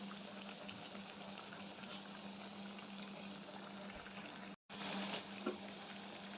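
Pitha cakes fry gently in oil over low heat, giving a soft continuous bubbling hiss with a brief cut of silence partway through.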